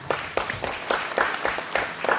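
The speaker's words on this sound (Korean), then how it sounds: "다시 한번 서창훈 회장님께 감사의 박수 부탁드립니다." Guests at a maritime literature award ceremony in a concert hall give applause, heard as a steady, rhythmic series of loud, reverberant claps.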